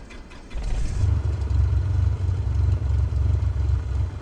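A Cessna 172SP piston engine cranks and catches in the MSFS 2024 flight simulator, a low rumble that builds after a brief starter whine and settles into a steady, throbbing idle.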